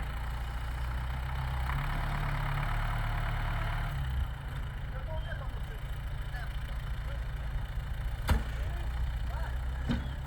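A car engine runs steadily at low revs while the car reverses, with a constant close rumble and a faint sharp knock near the end.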